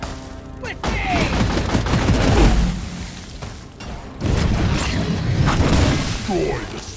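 Sentry gun and dwarf weapons blaze away in a Deep Rock Galactic firefight, a dense continuous roar of automatic gunfire and booms with a short lull midway, loud and close, with voices calling out over the shooting.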